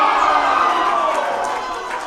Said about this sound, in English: Had the crowd up and out of their seats